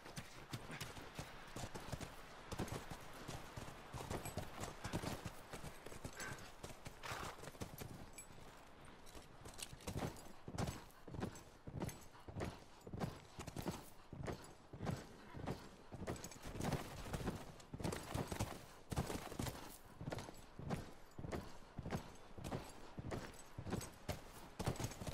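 Horses' hooves clip-clopping in The Last of Us, a rapid, rhythmic run of hoof strikes that starts looser and settles into a steady gallop-like beat, fairly close, with occasional faint voice underneath.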